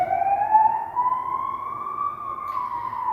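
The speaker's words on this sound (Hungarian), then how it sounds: "nem tudom, behaladszik-e a mentőautó zaja" An ambulance siren sounds loud and near as one continuous wailing tone that slowly rises in pitch, with no talking.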